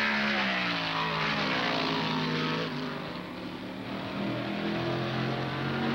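Ford Mustang and AMC Javelin race cars at the 1970 SCCA Trans Am at Watkins Glen, a sustained engine drone with shifting pitch sweeps as the cars pass, fairly faint and distant.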